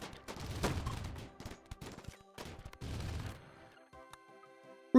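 Defensive turrets in the Rimworld colony game open fire on raiders walking in past a perimeter wall, with rapid bursts of sharp gunfire in clustered volleys separated by brief lulls.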